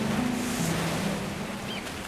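Sea waves washing steadily at the shore, a broad continuous roar of surf close by with wind noise on the microphone and a low background hum.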